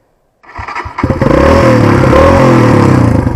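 Motorcycle engine cranks and catches, then settles into a loud, steady running idle with slight revving, checked after the bike went down in a crash that tore off its exhaust pipe.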